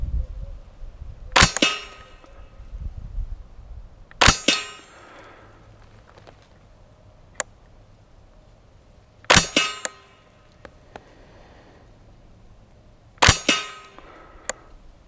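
Four sharp, cracking shots from a Ruger 10/22 LVT rifle firing standard velocity CCI rimfire ammunition, spaced a few seconds apart, each with a brief ringing tail and a faint metallic ping between them.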